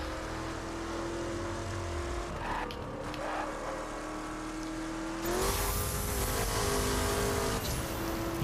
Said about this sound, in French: Un petit coup de drift.